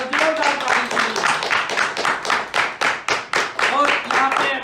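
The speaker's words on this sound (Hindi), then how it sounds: "एक बार जोरदार ताली के लिए।" An audience at a weekly community meeting claps in a loud, rhythmic series of bursts, steady and close throughout.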